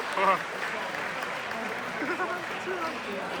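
A crowd claps in steady applause at a high school instrumental music awards banquet, a dense patter of hands that stays at an even level throughout, with some voices mixed in.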